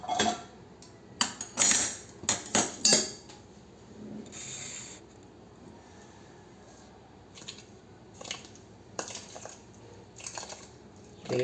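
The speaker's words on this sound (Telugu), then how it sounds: "ఇప్పుడు మనం దీనికి నెయ్యి వేసి కలుపుదాం" Ghee being mixed by hand into a sweet jaggery dough, giving a close, irregular run of sticky rubbing and scraping bursts, heaviest early on, then sparser soft stirring noises.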